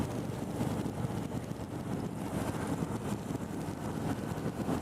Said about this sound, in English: Wind buffeting, it's not as bad as the Fat Boy that I've ridden before